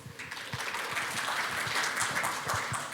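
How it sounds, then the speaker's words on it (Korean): A conference audience at a patent and IP industry event applauds as a speaker takes the stage, dense continuous clapping from many people at steady volume. "여러분 큰 박수로 맞이해 주시기 바랍니다."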